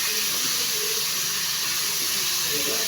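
Lean beef frying in hot cooking oil in a pan for chili con carne makes a loud, continuous hissing sizzle with no breaks, and faint background voices sit under it.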